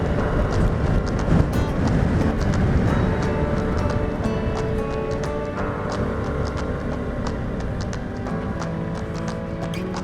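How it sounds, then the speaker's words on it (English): Steady, broad wind roar buffets the microphone on a blustery day while cycling, a continuous rushing noise with scattered clicks and rattles and no voices. "It's very windy out today,"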